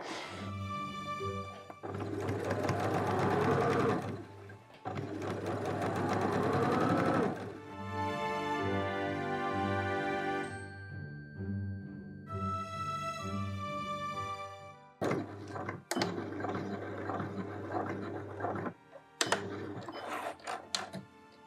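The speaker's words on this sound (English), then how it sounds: "So I'm just going to overlock them." An overlocker serger stitches pajama seams in rapid bursts of steady mechanical whirring, running in several separate runs with short pauses between them, close and loud with no talking.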